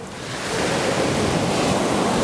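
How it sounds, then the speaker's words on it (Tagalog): Rough sea surf off the Turks and Caicos Islands roars in a steady wash that swells louder, mixed with gusting wind noise. "Medyo rough ngayon yung ano, yung dagat."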